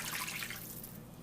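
Two cups of water go into a rice casserole pan, a brief splashing pour that is loudest at the start and then fades to a quieter trickle.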